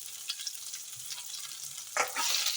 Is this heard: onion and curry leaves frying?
yes